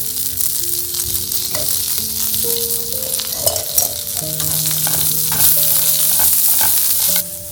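Chopped onion hits hot oil in a pan and fries with a steady, close, continuous sizzle, with occasional stirring clatter over a full seven seconds and no talk.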